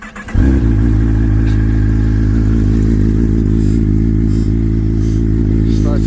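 A 2021 Kawasaki ZX10R sportbike running on an Antigravity battery cranks for a split second, then fires and settles into a loud, steady, throbbing idle close to the microphone.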